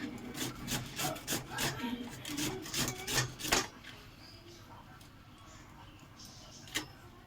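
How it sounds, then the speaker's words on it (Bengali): Two potatoes are scrubbed firmly by hand, giving a run of rhythmic, close rasping strokes for about three and a half seconds, then near quiet with one faint tap. "দুটো আলু ভালো করে ঘষে নেবো।"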